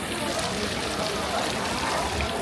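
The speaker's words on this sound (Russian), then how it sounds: "Оказывается, дождь." Steady rain falls outside at a crowded wedding pilaf restaurant in Tashkent, a dense even hiss with no breaks that carries loud and continuous throughout.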